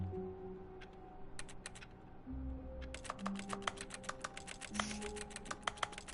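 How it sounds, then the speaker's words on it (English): Typing clicks from a computer keyboard serve as the interaction sound in the video game The Stanley Parable 2, with sparse keystrokes at first, then a fast steady run of sharp taps over a soft background tone. "I like how the interaction sounds like a keyboard"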